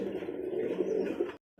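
Racer pigeons of a Pakistani bloodline coo close by in a low, throaty, continuous murmur that breaks off abruptly before a brief return; no talking.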